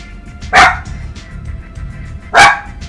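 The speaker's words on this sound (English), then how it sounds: "What are you barking at?" Two sharp, loud dog barks spaced about two seconds apart, close by, with a quiet background in between.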